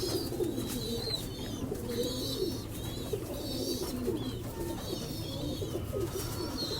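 Golden and Kamagar pigeons, including a red-eyed pair, coo in low rolling phrases, fairly faint and close, amid a steady background hum and some higher chirps, with no voices.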